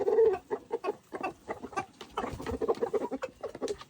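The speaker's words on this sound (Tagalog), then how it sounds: "papakain natin sa mga manok, no?" Chickens cluck and chatter continuously, close by, while pecking at black soldier fly larvae fed to them on a farm; a steady run of overlapping short clucks with no talking.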